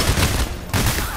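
Dense gunfire rattles in the co-op heist shooter Payday The Heist, a loud burst of rapid shots that breaks off briefly and then resumes.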